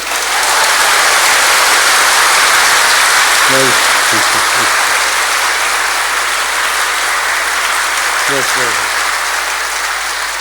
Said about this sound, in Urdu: اب میری تالی بجاؤ نا تھوڑی